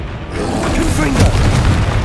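Confringo fire spell blast in Hogwarts Legacy, a continuous loud booming burst with crackling texture sustained over about two seconds, close and full-bodied, with no talk over it.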